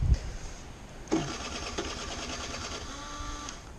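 A small 50cc Peugeot Speedfight 3 AC scooter engine fails to start, buzzing and sputtering after a sharp mechanical clunk, whirring unevenly without settling into a steady idle.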